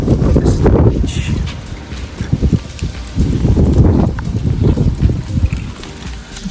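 Strong gusts of wind at a beach on Madeira buffet the microphone in heavy, rumbling waves that rise and fall, with a faint rustle beneath and no voices.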